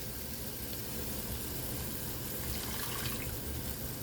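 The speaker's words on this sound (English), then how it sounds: "I'm going to start adding my water." Water poured steadily into a pan of thickening chicken gravy, a continuous trickling wash close by with no talk over it.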